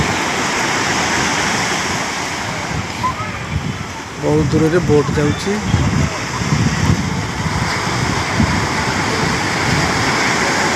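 Sea waves rolling onto a beach, a loud continuous roar of surf with wind, steady and close throughout, while a person talks briefly in the middle.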